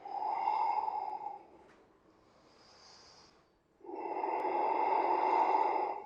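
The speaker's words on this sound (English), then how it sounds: "We'll have 3 breaths here." Slow, deep breathing held through a yoga pose, with a long audible exhale, a quiet pause, then another full breath, close and fairly faint.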